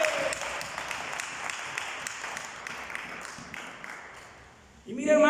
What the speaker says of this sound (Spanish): Den un fuerte aplauso a nuestro Señor Jesús.